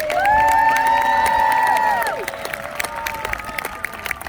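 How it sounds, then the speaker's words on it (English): Crowd applause and cheering for knights riding out at a jousting show, loud and sustained, with long sweeping tonal sounds overhead before fading into scattered clapping and noise. "please a round of applause for our legendary knights"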